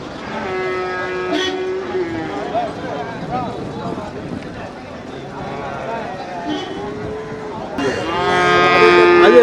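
Cattle at a busy livestock market moo in drawn-out, tonal calls, one early, another mid-way and a loud one at the end, over a constant murmur of voices and crowd noise.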